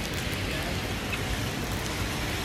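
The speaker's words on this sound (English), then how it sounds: "You can't see, but it's raining a lot." Heavy rain pours down steadily in Dubai, a dense continuous hiss of drops with no pauses.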